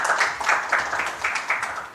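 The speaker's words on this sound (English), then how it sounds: "Can we give her a round of applause and welcome here today?" An audience at a panel event on fair technology claps together in a brief, even round of applause that rises and falls in soft waves, heard from a moderate distance.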